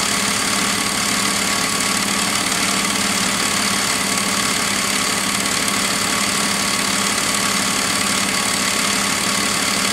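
BMW engine idling while running lean, a steady, close mechanical drone with constant fine vibration and no change in speed throughout, heard alone without voices.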